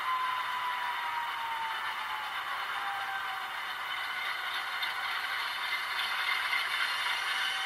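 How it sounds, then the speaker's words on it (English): A steady, whirring radiator fan hum from a model GE C39-8 locomotive's sound system, with a faint rattle, runs continuously at low volume, with a slight tone drifting downward. "There's the fan sound right there."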